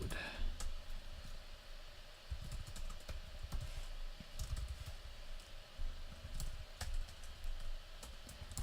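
Someone types code on a computer keyboard while playing the programming game Dungeon Bots, producing irregular soft clicks and taps at close range over a low background hum.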